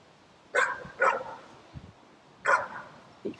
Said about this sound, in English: you can imagine it's that dog we can hear barking in the background